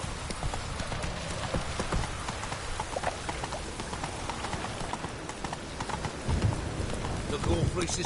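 Roach, a horse in The Witcher 3 video game, clip-clops steadily through rain on a PS4 Pro, hoofbeats close and continuous over a constant hiss of rainfall.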